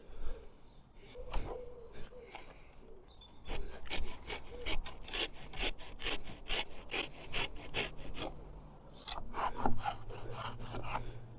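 A dead branch sawn off a pollarded tree, heard as a rapid run of close, rasping hand-saw strokes that pause briefly near the start and again near the end.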